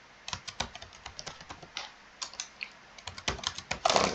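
A password is tapped out on a computer keyboard in a quick run of close, crisp keystrokes, with a brief pause midway and a denser flurry at the end.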